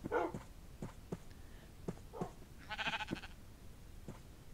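Minecraft sheep bleating among snappy wolf barks and growls in a snowy biome, several short separated calls over a quiet game background.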